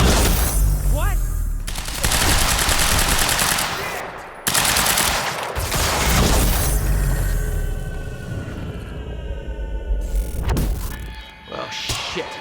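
Loud bursts of automatic gunfire from the video game Quantum Break, with long rattling volleys and a heavy low rumble, mixed with game voices and sound effects.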